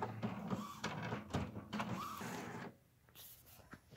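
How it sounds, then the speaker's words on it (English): An Epson WorkForce inkjet printer runs a printhead nozzle check, with close, steady motor whirring and a shuttling carriage for a few seconds. The mechanism then quiets to softer clicks. "Printhead nozzle check, and we're going to press start."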